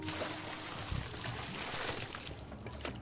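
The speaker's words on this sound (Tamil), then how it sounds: "பக்கத்தில் வந்து அருவி ஊற்றிக்கிட்டு இருக்கு" A nearby waterfall pouring, a steady close broadband rush of falling water that stays constant throughout, with faint low thumps underneath and no speech.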